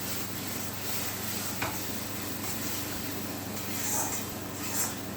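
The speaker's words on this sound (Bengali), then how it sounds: "এখানে ভাজা মাছগুলো দিয়ে দেব।" Fried pomfret goes into a pan of onion-tomato masala, giving a steady low sizzle with faint stirring and scraping, plus a couple of soft clinks.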